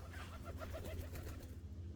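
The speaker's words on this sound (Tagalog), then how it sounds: "Alaga namin ibon" A pet pigeon coos in low, steady, repeated murmurs, close by, with a constant background hum and no talking.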